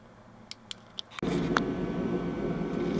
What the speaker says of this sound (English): Sorry for the noise. The heater is running.